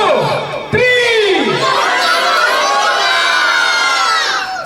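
A crowd at a naming ceremony erupts into loud, sustained cheering and shouting, with many children's voices whooping close by right after a brief pause.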